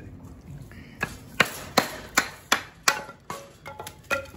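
A Cold Steel Rajah II knife is batoned through very dry wood, producing a series of about nine sharp, close chopping and knocking blows at a quick, irregular rhythm, with no talking.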